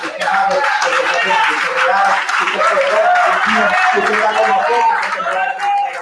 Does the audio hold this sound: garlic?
no